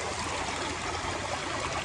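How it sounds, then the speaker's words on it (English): Water rushes steadily through a breached beaver dam on a dried-up creek, a loud, continuous close-up babble and trickle filling the whole stretch without pause. "Something about the running water"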